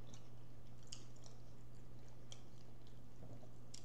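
Crunchy double decker tacos are chewed close to the mic, giving soft, irregular crunches and bites over a low steady hum.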